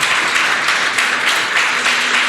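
Dense applause from a church congregation during a worship service, steady and loud throughout the short stretch with no pauses.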